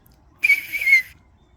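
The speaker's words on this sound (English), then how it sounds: "When you get the whistle, even if it's just a little bit of air pressure, it's loud." A single sharp, high-pitched whistle lasting under a second, loud and clear against near silence.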